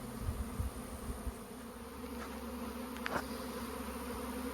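Honeybees swarm around a bush outdoors, a steady droning buzz of many insects that carries on evenly throughout, with a few nearer buzzes passing close early on.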